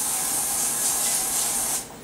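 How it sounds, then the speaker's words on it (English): A steady close hiss of an aerosol can spraying for under two seconds, then cutting off abruptly. "what I got here is a butter spray can"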